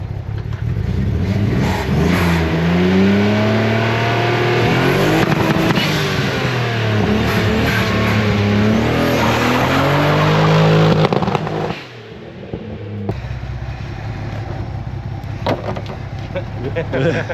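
A car engine revs repeatedly, rising and falling in pitch in long sweeps that are loud and close, then drops to a rougher idle near the end. Voices talk faintly underneath.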